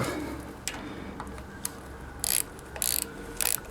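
Wrench tightening the battery terminal on a lawn tractor, a series of small close metallic ratcheting clicks and taps followed by three short bright bursts of scraping turns.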